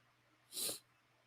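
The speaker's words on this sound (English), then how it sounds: "Sniffles are back." One short, soft nasal sniffle from a person with a cold, a brief breathy snort standing alone against a quiet room.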